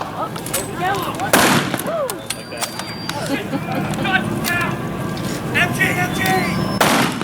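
Machine gun fire crackles at a WWII weekend battle reenactment at the Mid Atlantic Air Museum, with loud bursts near the start and end and people talking over the outdoor scene.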